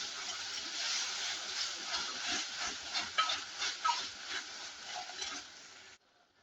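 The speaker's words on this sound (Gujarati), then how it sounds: "બધું બરાબર મિક્સ કરી લઈશું." Cabbage manchurian sauce with dark soy sauce, ketchup and vinegar being stirred in a pan, a soft steady scraping and sizzling hiss that runs evenly for about six seconds, then cuts off abruptly.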